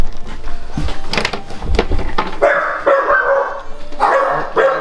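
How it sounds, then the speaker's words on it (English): Dogs barking repeatedly indoors during a household hide-and-seek game, loud sharp barks and yips in quick irregular bursts, close to the microphone, with some whining tones mixed in. "Dogs are barking."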